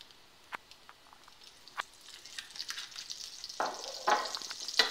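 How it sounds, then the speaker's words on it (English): Food searing and frying in a pan, seasoned with salt, black pepper and white truffle oil and turned until crispy, with a close sizzle that builds in intensity alongside scattered clicks and stirring sounds. "Want to let it sit and get a nice sear, a little bit golden brown."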